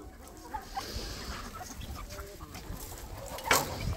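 Free-range chickens cluck softly and steadily on a homestead, a flock heard at a moderate distance with a sharper squawk near the end.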